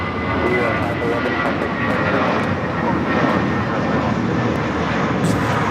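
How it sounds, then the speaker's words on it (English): An Airbus A320 jet of Viva Airbus takes off from Los Angeles International Airport, its loud engine roar rushing steadily throughout while voices talk over it. "This is Viva Airbus 511 taking off to Guadalajara on the A320."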